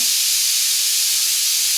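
A pressure cooker holding chickpeas and bottle gourd on an induction stove vents steam in one loud, steady, close hiss that fills the whole moment, with no talk.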